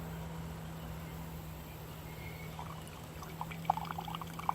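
Water being poured into an Ozark Trail coffee drip maker, a soft steady pour over low hum, with a few light splashes and drips toward the end.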